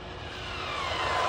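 HBX 2997A RC car fitted with an Ovonic 120A ESC on stock tires, running at speed: a steady high-pitched electric whine that rises in pitch and grows louder as the car approaches, with no voices.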